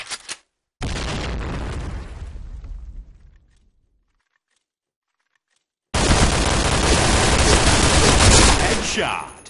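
Grenade blast and gunfire in a first-person shooter video game: a loud burst of gunfire that booms and decays, a brief silence, then a second sustained loud roar of fire near the end.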